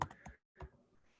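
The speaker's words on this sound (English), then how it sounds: "I start typing in Bo" Typing on a computer keyboard while entering a client's name into real estate pipeline software: a few quick, close keystroke clicks in short bursts, separated by a brief pause.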